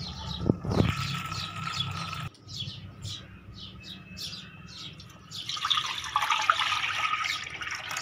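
Water from boiled vermicelli pours and splashes out into a sink at close range, a running trickle alongside clear chirping birds in the background, with no speech.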